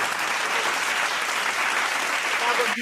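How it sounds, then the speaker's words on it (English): A room of listeners at a talk on self-worth breaks into sustained hand-clapping applause, moderately loud and even throughout, ending with a brief thump. "I'm gonna give myself a hand clap for that."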